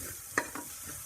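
Eggs being stirred in a frying pan: a soft background sizzle with two quick scraping strokes of a utensil, close and fairly quiet.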